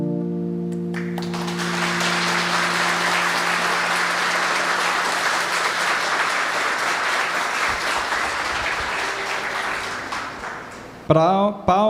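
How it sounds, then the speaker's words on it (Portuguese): An audience applauds a spiritist center choir in Cuiabá after its song, a dense sustained clapping that starts abruptly as the last sung chord fades, with a voice breaking in near the end. "Palmas para o coral"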